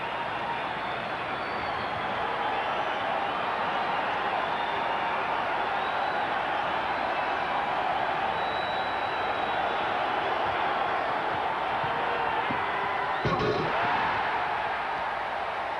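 A large arena crowd at the 1988 NBA Slam Dunk Contest roars after a Michael Jordan dunk, a dense, sustained wall of cheering that runs loud and unbroken for the whole stretch.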